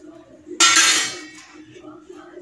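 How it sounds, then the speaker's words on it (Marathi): Paneer pieces tipped into a pan for restaurant-style paneer tikka masala: a single loud clattering clink of metal cookware, fading over a second, over a faint steady hum. "पनीरचे पीस घातले"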